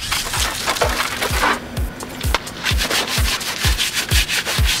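Brisk back-and-forth scrubbing of a nylon brush across a car engine bay, close and loud, with a quick steady rhythm of roughly two strokes per second.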